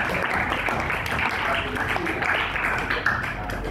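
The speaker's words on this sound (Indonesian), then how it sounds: "Tepuk tangan buat Bu Lucy ya." A classroom of students clapping for their teacher Bu Lucy, a busy patter of many hands with some louder claps near the end, with faint voices mixed in beneath.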